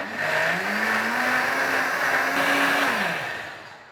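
A blender whirs steadily for several seconds mixing yogurt cake batter, its motor pitch rising and dipping slightly before winding down.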